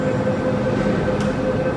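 An MTR Tsuen Wan Line M-Train, running between Tsuen Wan and Lai King, rumbles steadily at close range as a continuous rolling drone with no talk.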